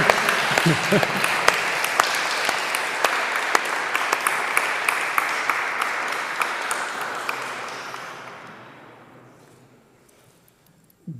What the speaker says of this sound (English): let's give a round of applause to all of them